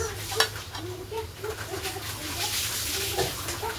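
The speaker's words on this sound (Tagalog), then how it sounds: "Ibutang ko na tong carrots kag ang sibuyas." Carrots and onion stirred in a pan make continuous soft scraping and light sizzling, a close, busy texture of spoon strokes throughout.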